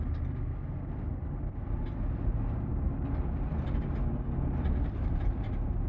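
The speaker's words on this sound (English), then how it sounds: "The lights blink red at this busy intersection when the trains are changing boxcars." Freight trains switching boxcars near a busy road intersection, heard as a steady low rumble of rail cars and traffic, moderately distant and continuous without speech.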